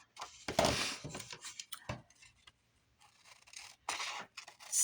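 Scissors trim paper for envelope pockets in a quiet craft session, giving a few close snips and rustling cuts with short pauses in between, with no talk.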